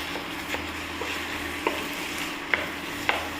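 Food being stirred in a pan for a home-style dal curry, a few sparse utensil clinks and scrapes over a low, steady sizzle.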